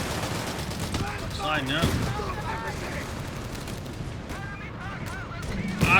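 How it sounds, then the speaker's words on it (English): Gunfire and artillery-type booms from a World War II strategy battle in Company of Heroes 3, with a 47mm anti-tank gun among the shots, rumbling in a dense fusillade beneath continuous commentary. "Doing some damage with its 47mm anti-tank gun."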